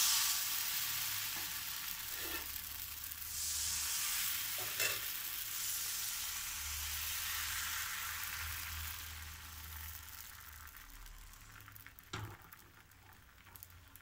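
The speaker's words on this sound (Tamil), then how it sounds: "நான் இப்போ உங்களுக்கு நான்ஸ்டிக் தவாவில் தான் சுட்டு காமிக்க போகிறேன்" Appam batter sizzles and fries on a hot nonstick tawa, a steady close hiss with a few light scrapes and taps, heard alone without talk.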